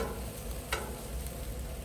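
Onions sizzle on a Blackstone griddle beside New York strip steaks, a steady close hiss with low crackle and one brief brighter scrape partway through, no voices.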